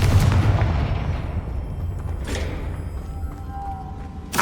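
Confringo fire spell blasts in Hogwarts Legacy: a heavy booming impact at the start that rumbles and fades, a softer whooshing burst midway, and a sharp crack at the very end.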